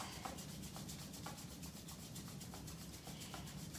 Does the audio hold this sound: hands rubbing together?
yes